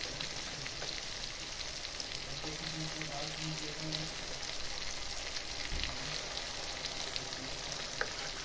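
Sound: spice paste added to hot pan, frying for mustard rohu fish

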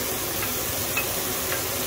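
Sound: onions, celery and garlic sautéing in squirrel drippings with butter

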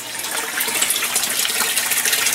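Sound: aquaponics bell siphon overflowing into sump tank

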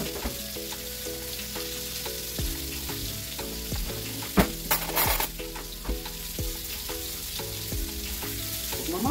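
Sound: fish frying in a new pan

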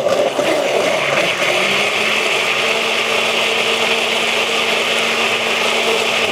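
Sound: blender mixing homemade chocolate malt shake

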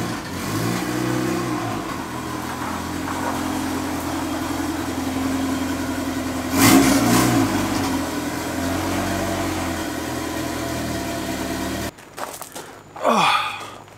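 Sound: Honda car with K-Series engine running

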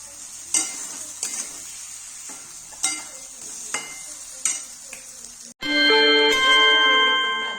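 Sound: stuffed eggplant being stirred in a pan

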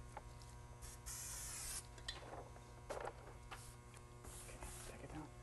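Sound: adhesive pro spray sprayed onto transfer paper

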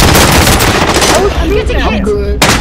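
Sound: gunfire in the video game Call of Duty: Modern Warfare

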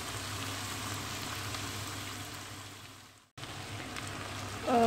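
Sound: bacon, onion and garlic sautéing in a pan

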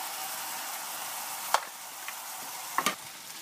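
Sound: onion and spices frying in a pan for watermelon sauce

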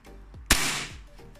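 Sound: Armorer Works Hi-Cap airsoft pistol test firing 0.30 gram BBs

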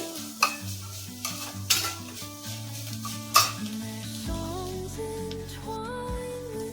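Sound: sweet corn and carrot frying and being stirred in pan

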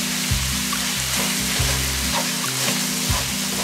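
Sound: vegetables being stir-fried in a pan for mapo tofu

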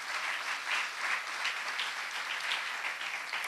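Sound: applause for the Lord Jesus Christ in church

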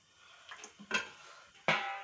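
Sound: setting down a pan for making dosa

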